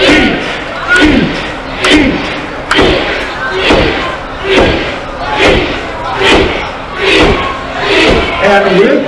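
A crowd at a Nashville hot chicken eating contest chants in unison with loud rhythmic shouts about once a second, each shout punchy and booming over a noisy audience.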